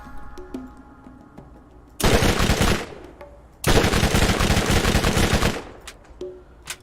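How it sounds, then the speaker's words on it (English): A submachine gun fires in the Borderlands video game: two loud, sustained bursts of rapid automatic fire, the first under a second long and the second about two seconds, with quieter game sounds between them. "Let's just do the submachine gun."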